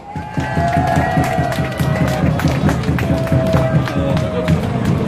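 A rally crowd in Gwanghwamun, Seoul, breaks into big applause to welcome a speaker, with dense, continuous clapping and scattered cheers close by, while a loudspeaker tone rings faintly over it.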